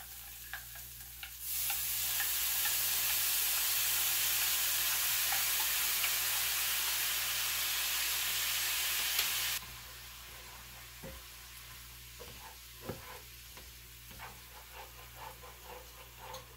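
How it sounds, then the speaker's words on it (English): Beef broth poured over tomato paste in a hot pan, a loud steady sizzle lasting several seconds, then quieter stirring with scattered scrapes and clicks. "I'm going to add 1 tablespoon of tomato paste that I took out of the freezer. I'm going to add this beef broth."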